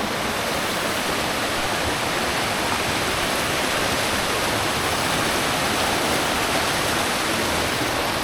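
A jungle waterfall (curug) in Indonesia pours with a steady, loud, unbroken rush of water throughout, dense and close, with no voices over it.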